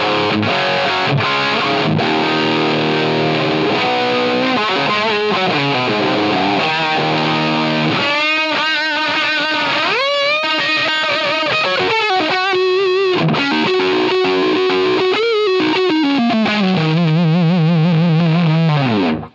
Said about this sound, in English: This is one of the loudest overdrive pedals I've ever played as well.